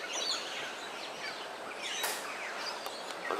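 Dense chorus of birds calling through the Daintree rainforest canopy near Kuranda village, steady and moderately loud with scattered sharp chirps and whistles layered over one another.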